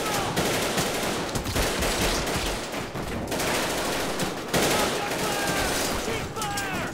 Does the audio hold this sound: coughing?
no